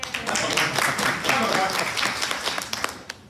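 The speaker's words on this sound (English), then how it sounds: "Round of applause for Brian." An audience gives a brief round of applause during a panel discussion, scattered clapping swelling then thinning out quickly, with a voice speaking over it.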